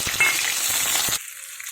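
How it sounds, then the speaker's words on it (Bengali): Chilies and bay leaves hit hot oil in a quick tempering for a fish curry with taro, sending up a loud, close, crackling sizzle that cuts off abruptly after about a second. "লঙ্কা তেজপাতা ফোড়ন লঙ্কাগুলো দিয়ে দিলাম"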